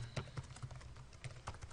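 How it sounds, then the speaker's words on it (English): Quiet keystrokes on a computer keyboard while a reply is typed into an online discussion board, a short run of soft irregular clicks. "I'll type my response"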